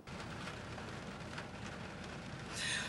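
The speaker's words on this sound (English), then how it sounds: "there's a lot of lightning and this rain is continuous this morning" Heavy, continuous rain during flooding from Tropical Storm Elsa drums on a car roof and windshield, a steady dense hiss heard from inside the vehicle that swells slightly louder toward the end.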